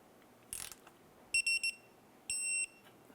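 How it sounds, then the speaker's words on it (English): A torque wrench tightens a castle nut on a 2012-2017 Toyota Camry steering rack, giving a faint ratchet rasp followed by three short beeps and one longer beep, heard close in a quiet workshop. "Now we're going to torque this down to 36 foot-pounds."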